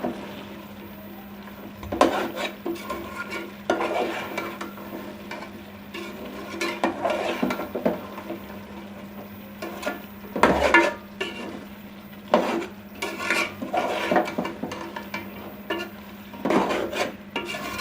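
Potato, cauliflower and meat curry being stirred and fried in a pot, with steady scraping of a spoon against metal and soft sizzling, punctuated by louder clanks at intervals, no voices.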